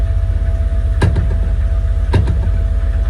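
A Honda Civic drift car's engine warms up at idle with a steady low rumble close by, and two brief sharp clanks break through the drone, with no talking.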